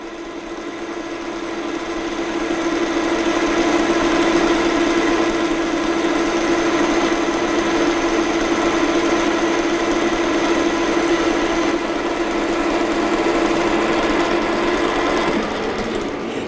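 A workshop machine runs continuously in motion, holding a loud, steady mechanical hum with a constant whining tone that barely changes from start to finish.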